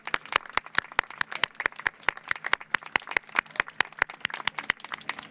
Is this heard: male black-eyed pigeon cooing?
no